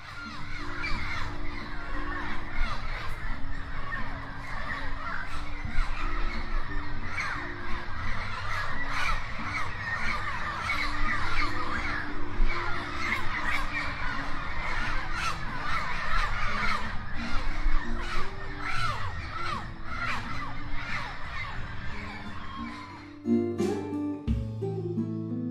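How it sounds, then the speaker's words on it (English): Macaws at sunset in the Brazilian Pantanal, flying to their roost trees with repeated harsh squawks and caws, many birds calling at once over a dense, continuous chorus. "We want to get pictures of the macaws flying to their roost trees"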